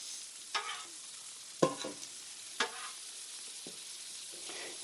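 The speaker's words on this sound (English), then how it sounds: "Let's get a little bit more oil down on these hash browns." Hash browns fry in oil on a flat griddle with a constant bright sizzle, broken by several sharp spatula scrapes and taps as they are pushed around; no one speaks.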